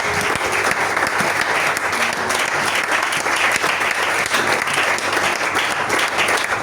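Loud, sustained applause fills a church service, a dense congregation clapping continuously at close range with no breaks.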